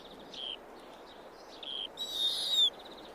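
Owls give faint, high-pitched calls over a quiet background: several short squeaky notes, then a longer, louder screeching call near the end.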